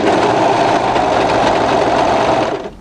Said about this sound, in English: what we're going to do is overlock this edge into place